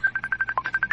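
A phone rings with an incoming call, a rapid burst of about a dozen short electronic trill pulses at a steady, even rhythm, clear and close, with no talking.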